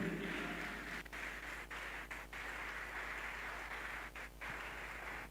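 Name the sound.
audience clapping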